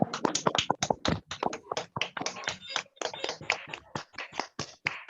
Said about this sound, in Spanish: pido abran sus micrófonos para darle un aplauso a Patti